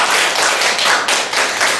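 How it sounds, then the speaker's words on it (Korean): Audience clapping at a Korean lecture-style talk: a roomful of hands beating out loud, slightly rhythmic bursts that swell and dip over a couple of seconds, with no voices on top. "우리 지구상 박수 한번 쳐줘야 되는데"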